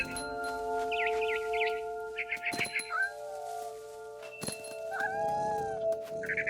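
Cat meows and yowls in the video game What Remains of Edith Finch come in several short, close calls, some drawn out into wavering cries, over a quiet game backdrop with faint bird chirps.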